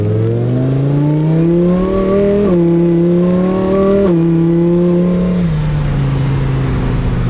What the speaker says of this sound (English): the car's cold, so it bogged down there